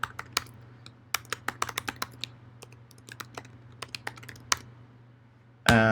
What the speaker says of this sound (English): you can see it does take an extra moment or so to type this in